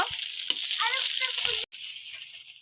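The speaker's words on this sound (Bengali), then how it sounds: "পনির লাল লাল করে ভাজা হয়ে গেছে এখন নামিয়ে নিব" Paneer cubes frying in hot oil in a pan give a steady close sizzle, with a few soft stirring knocks and a brief dropout near the end.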